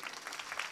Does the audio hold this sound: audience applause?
yes